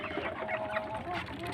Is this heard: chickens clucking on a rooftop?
yes